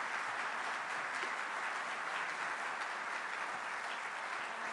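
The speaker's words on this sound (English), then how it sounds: "I hope you give her a round of applause" Audience applause at an anniversary presentation, a steady, even wash of many hands clapping at moderate distance, sustained throughout with no voices on top.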